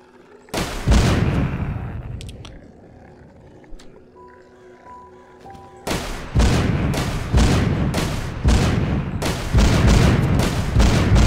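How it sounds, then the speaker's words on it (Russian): Loud booming explosions in the video game The Walking Zombie 2, one early blast, then a rapid series of repeated blasts in the second half, with quiet game ambience between. "почему такие взрывы?"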